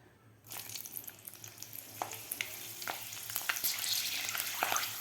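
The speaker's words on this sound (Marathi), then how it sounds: "आता आपल्याला ह्याच तेलामध्ये वड्याबरोबर खाण्यासाठी मिरच्या तळून घ्यायच्या आहेत" Slit green chillies frying in hot oil for Mumbai street-style vada pav: a steady close sizzle bursts in after a brief quiet start, dotted with sharp crackles and pops throughout, with no talking.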